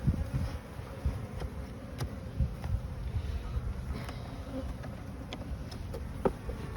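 Honey bees in an open beehive during a spring hive inspection, their steady, dense buzzing filling the air close by, with occasional individual bees zipping past the microphone and no talking.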